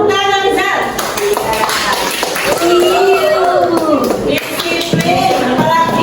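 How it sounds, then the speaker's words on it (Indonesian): A classroom of students claps their hands in a burst of applause, mixed with children's voices and chatter. "Tepuk tangan, Rizal."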